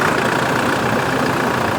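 Toyota engine running at a steady idle, a dense, constant mechanical rumble close by and unchanging for the short stretch, with no voices.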